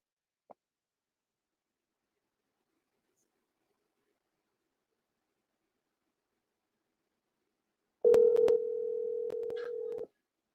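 A telephone dial tone plays for about two seconds near the end of the clip while a call is placed to another phone, clear and steady after a long stretch of silence, with a brief click earlier.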